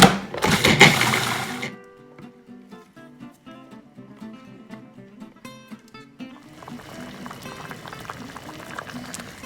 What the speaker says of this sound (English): so our minestrone's coming up to a nice simmer